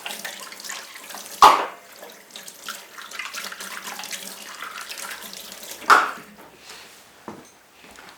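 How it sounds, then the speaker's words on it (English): Water from a kitchen tap runs in a steady close stream while measuring cups are rinsed, broken by two sharp knocks of the cups against the sink and a softer clink. "Just rinsing off my measuring cups."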